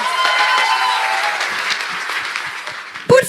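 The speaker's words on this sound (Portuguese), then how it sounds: "Eu acho que eles merecem uma salva de palmas melhor" Audience at a graduation gala clapping loudly and densely, the applause gradually thinning toward the end before a brief louder sound cuts in.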